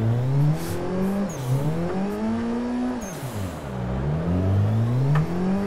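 A 333 hp drift Nissan 180SX revving on a track, engine pitch climbing and dropping in repeated sweeping waves, loud and close with no voices.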